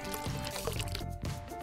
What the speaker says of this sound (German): Fügt 50 ml warmes Wasser zu einem halben Teelöffel Agar hinzu.